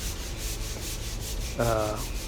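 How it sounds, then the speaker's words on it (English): Rhythmic back-and-forth scraping of sandpaper on a sanding pole across a classroom wall, steady strokes repeating at an even pace, with a brief tonal hum near the end. "I'm using the sanding pole here"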